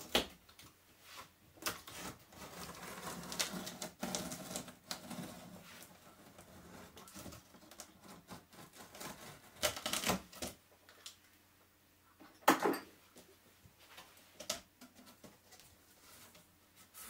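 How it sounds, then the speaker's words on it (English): Unboxing an Epson ET-8550 (L8180) printer produces irregular cardboard scrapes, tapping, rustling and crinkling packaging with occasional louder knocks and quiet pauses, close by and with no talking. "Now I will start opening the box and see what's inside."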